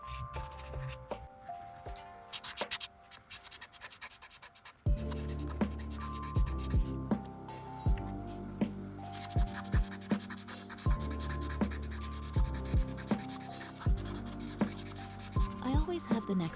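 Ohuhu alcohol markers blending on paper, close scratchy rubbing strokes in repeated bursts, soft and intimate, with light background music.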